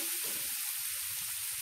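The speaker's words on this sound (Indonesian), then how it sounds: "Bumbu yang udah di blender ditumis hingga kecoklat-coklatan atau hingga harum." Blended spice paste sizzles and fries in a pan while being sautéed for soto ayam, a steady close crackling hiss with soft stirring under it throughout.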